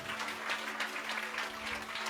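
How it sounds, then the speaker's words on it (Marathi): A church congregation claps for the Lord during a sermon in a dense, steady burst, fairly soft and somewhat distant. "जरा जोरदार टाळ्या वाजवा प्रभूसाठी."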